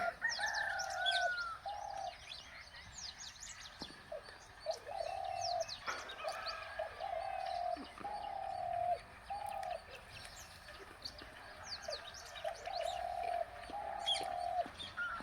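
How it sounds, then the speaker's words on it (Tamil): Parakeets and sparrows calling in the morning behind a village home, with repeated cooing notes and many quick chirps and tweets overlapping at moderate distance throughout, no talking. "பச்சைக்கிளி நிறைய குருவி அதெல்லாம் பார்த்திங்கன்னா காலையில் அதனோட உணவை தேடி வந்திருக்கு"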